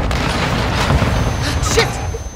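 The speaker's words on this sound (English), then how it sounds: "Grenade!" A grenade explodes in the Call of Duty Modern Warfare II video game, a dense, sustained roar of blast and rumbling debris that fills the moment, loud and close, with game noise continuing around it.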